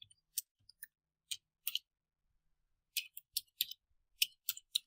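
Computer keyboard keys tapped in short, light bursts of clicks with quiet gaps between them, close and fairly soft in an otherwise silent room.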